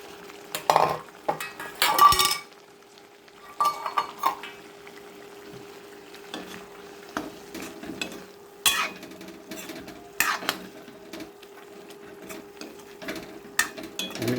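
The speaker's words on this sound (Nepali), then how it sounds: "यसरी हाम्रो मसला यसरी पाकिरहेको छ है।" Masala spices cook in a pan while being stirred, giving intermittent scraping and clattering bursts of a utensil against metal over a quiet background, with no voices.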